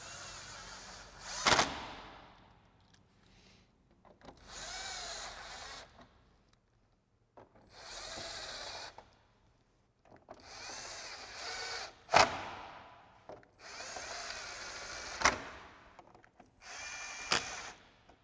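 A power drill fitted with an 8mm socket drives bumper bolts back into a 2015-2017 Ford Mustang, six short whirring bursts separated by pauses, close by with a sharp click at the end of several runs.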